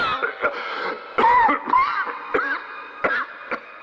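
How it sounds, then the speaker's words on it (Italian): Several short coughs and throat-clearing sounds from a man with a terrible cough, spaced across a few seconds, fairly close and moderately loud, with no speech. "Ha una tosse terribile"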